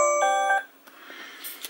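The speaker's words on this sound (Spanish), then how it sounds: "Esta es la alarma de fin de semana" Electronic weekend alarm giving a short run of bright, tonal beeps, repeated two or three times and then cut off, leaving faint room noise.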